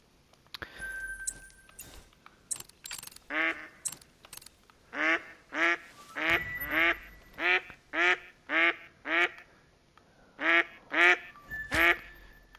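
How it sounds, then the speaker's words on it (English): Ducks quack repeatedly in a hunting game set outdoors, a run of loud, nasal calls in uneven bursts that grow steadier, with short pauses and a few faint clicks between them. "ducks are annoying"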